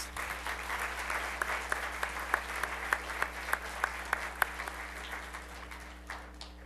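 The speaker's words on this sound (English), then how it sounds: "If we could give them a warm round of applause." Warm audience applause at an athletics hall of fame ceremony, fairly faint and distant, with a few sharper individual claps standing out over a steady room hum before it tails off.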